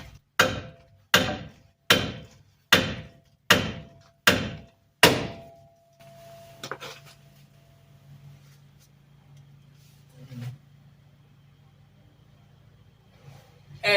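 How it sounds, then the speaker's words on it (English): Heavy hammer blows on the axle parts of a 1998 Ram 1500 pickup during U-joint and axle seal work: seven loud, evenly spaced metallic strikes, then a low hum with a couple of faint clanks. "get a bigger hammer."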